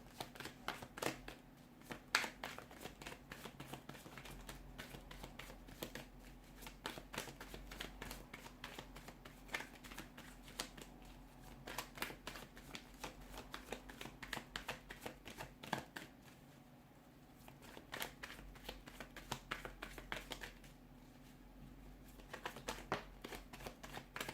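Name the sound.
tarot cards being shuffled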